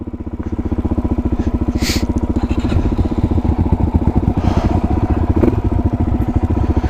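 A motorcycle engine runs close by with a little throttle, a loud, rapid pulsing putter that rises slightly as gas is given, with a faint voice briefly audible over it.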